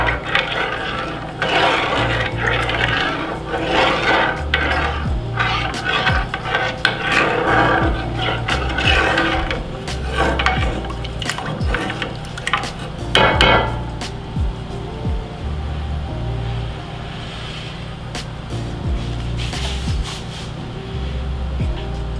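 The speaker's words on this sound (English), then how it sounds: "you have to stand by the stove constantly stirring" A spoon works through farina in a pot on the stove, giving repeated rubbing and scraping strokes against the pot in an uneven rhythm, close and moderately loud over a low hum.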